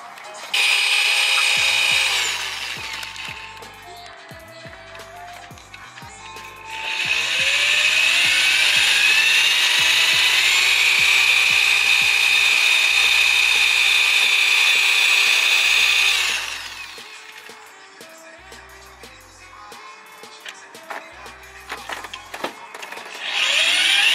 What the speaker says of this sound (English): he's gonna try to drill the broken bolts